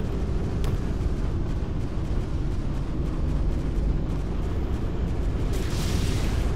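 An RPG rocket explosion in Arma 2 gameplay: a loud, sustained rumbling roar with a few sharp cracks layered in, and a hissing surge near the end. No voices are heard.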